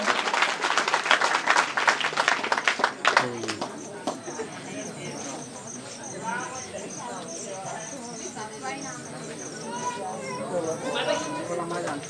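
Loud applause at an award ceremony for a jasgeet singing competition: sharp, dense clapping for the first three seconds, then fading under a voice that speaks over lighter scattered claps and background noise.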